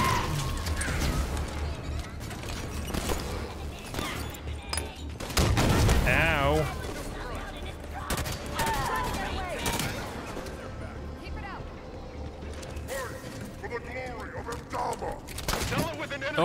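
Shotgun fire and other in-game combat from Halo 5: Guardians, with repeated loud blasts and crashes in a busy battle mix while people talk over it.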